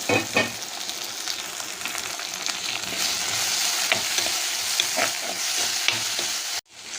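Chopped tomatoes with salt sautéing in a pan, a loud close sizzle with stirring scrapes throughout that cuts off abruptly just before the end.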